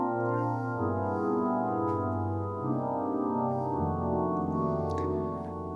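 FM-X pad preset VaryPad 1 on a Yamaha Montage M synthesizer: sustained layered chords shifting slowly in a smooth evolving texture, rich and warm, played alone without talk.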